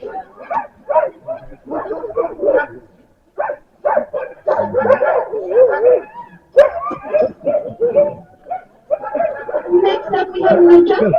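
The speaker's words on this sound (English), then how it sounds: "You can see the other dogs, they're very excited whenever anyone gets to them." Working sled dogs at the Denali National Park kennels bark, yip and whimper excitedly in a busy overlapping chorus, loud and close, while a person talks over them.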